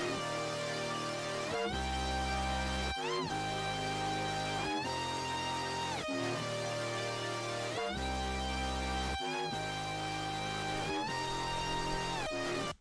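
An EDM drop loop from the Cymatics Odyssey sample pack, sped to about 154 BPM, with bright sustained synth chords over heavy pulsing bass that cuts out briefly at regular intervals, dense and steady throughout.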